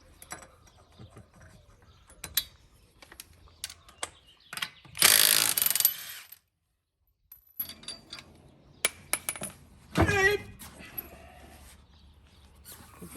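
A wrench works loose the lug nuts on a 1997 Toyota 4Runner wheel, with scattered metallic clicks and clanks and two loud bursts of a power tool or ratchet rattling close by.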